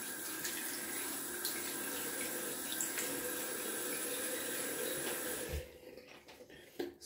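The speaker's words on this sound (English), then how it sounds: "Gonna wet the face with some ice cold water." Ice-cold water runs steadily from a tap with light splashing as it wets a face before shaving, fairly quiet and close, then stops near the end, leaving a few soft knocks.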